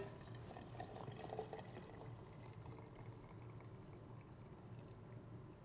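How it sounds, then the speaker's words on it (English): Boiling water poured over herbs to steep tea, a faint, steady trickling and splashing of liquid that runs unbroken throughout. "we're going to take this boiling water and we're going to just pour that in"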